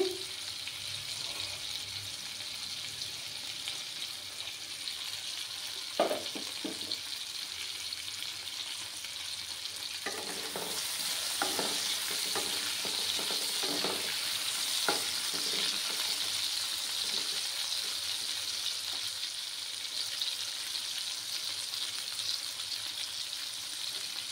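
Potatoes frying in a pan for a Bengali milk potato dish, a quiet continuous sizzle that runs throughout, with occasional soft knocks and clinks of a utensil midway.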